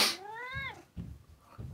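A pet cat gives a single clear, rising-and-falling meow at close range, followed by soft low rustling and handling noises.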